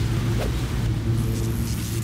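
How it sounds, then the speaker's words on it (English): A steady low rumble of an elevator car rising in the video game BioShock, continuous and fairly loud throughout with a faint higher whine creeping in near the end. "Yes, I'm taking the elevator."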